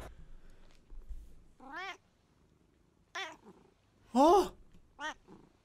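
A cat meows several times at uneven intervals, with one louder, drawn-out meow near the end, close by in a quiet room.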